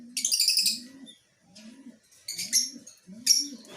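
African pigeons in a roofed cage coo in low, repeated phrases, four soft rolling coos spaced about a second apart, with brighter chirps and twittering from other birds above them.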